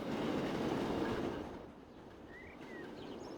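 A train rolls past in the railway simulation game Transport Fever 2 on a UK mainline, a quiet rumbling clatter that fades partway through while faint wheel squeals ring out near the end.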